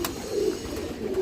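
A breeding pigeon with a calcium deficiency coos close by, giving two soft, low, throaty coos over faint background noise.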